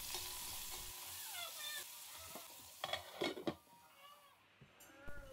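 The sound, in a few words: onion half-rings frying slowly in a hot pot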